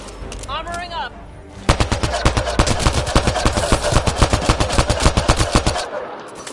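Video game gunfire in a science-fiction shooter, a brief voice at the start and then a loud, rapid burst of automatic shots that rattles on for several seconds before cutting off.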